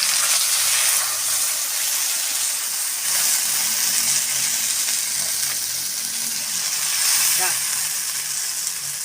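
A loud, steady hiss of steam and bubbling as water goes into a pan of frying potatoes and fish, continuous and close, with a voice talking briefly over it.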